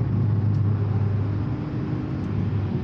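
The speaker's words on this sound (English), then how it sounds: "now you have these beautiful paddle shifters, and the shifts are so fast" Porsche Boxster S engine running steadily with a loud, continuous low rumble from inside the cabin; individual quick PDK paddle shifts are not distinct in the steady drone.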